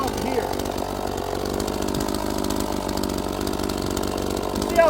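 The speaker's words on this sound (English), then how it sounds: "That's why I'm kind of cutting them with the chainsaw" A 45cc chainsaw runs steadily and loud while cutting into a twisty, knotty log, its engine buzzing continuously throughout with a brief rise at the end.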